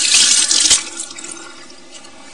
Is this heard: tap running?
yes